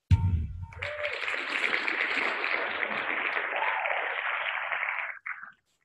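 Applause from a studio audience on a radio show, a steady broadband wash of clapping lasting about four seconds before stopping, with a brief low thump at the start.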